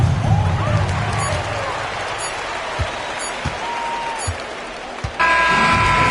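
Home basketball crowd in an arena, a steady broad wash of cheering and applause that sustains throughout, with a few sharp knocks, then a sudden louder swell near the end.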